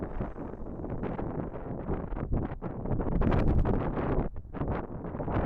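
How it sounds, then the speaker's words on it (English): Strong wind buffets the microphone at a fishery, a constant rough roar with gusting swells and brief dips, loud and close, with no talk. "The wind's progressively getting worse, believe it or not."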